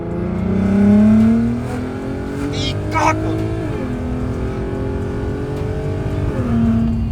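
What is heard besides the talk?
VW Golf R32 Mk5 engine revving with exhaust flaps open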